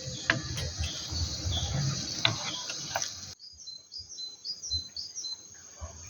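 Birds chirp and sing outdoors over a steady insect-like buzz, with brief tweets continuing after a louder, busier stretch of background noise.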